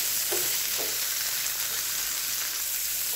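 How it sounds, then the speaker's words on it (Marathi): Bitter gourd (karela) frying in hot oil on a high flame makes a continuous dense sizzle, close and even, with two soft stirring scrapes early on. "भांड्यामध्ये तेल टाकायचं, तेलामध्ये कारली टाकायची, गॅस त्यात मोठी करायची"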